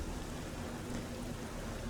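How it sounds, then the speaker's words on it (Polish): Heavy rain falling in the game Black Mirror IV, a steady, dense hiss of downpour that holds evenly and close throughout with no voices. "Leje jak z cebra."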